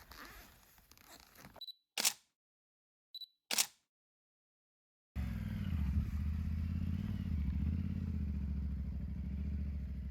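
A new motorcycle starts up at a campsite in northern Norway on the way to Nordkapp. It follows a few sharp camera shutter clicks and some silence, then settles into a loud, steady engine drone that lasts to the end.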